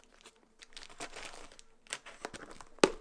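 Packaging around a box of journals crinkles and rustles softly in short, scattered bursts, ending in one sharper crackle.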